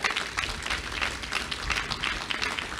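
Steady, dense applause from an audience at a college student commons dedication ceremony, a continuous close crowd of clapping throughout.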